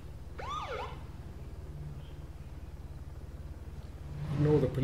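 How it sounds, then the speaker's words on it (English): A police car siren sounds in a video game, with a short wailing sweep near the start. A low steady engine hum runs throughout, and a louder rumble rises at the end. "Ignore the police car."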